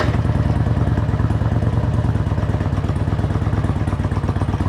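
A Harley-Davidson Road King with fuel injection idles just after starting, a loud, close, steady rumble with even rapid firing pulses and no speech.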